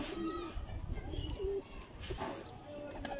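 Kasuri pigeons give low, soft coos and murmurs close by, repeated a few times over a rustling, noisy background.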